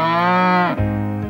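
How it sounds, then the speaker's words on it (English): A single long, loud cow moo sounds alone, a read-along sound effect with a low drawn-out tone that drops near its end. "He can go like a cow."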